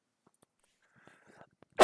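A single loud, abrupt human sneeze bursts out at the very end, after a stretch of near silence broken only by faint small clicks and rustles.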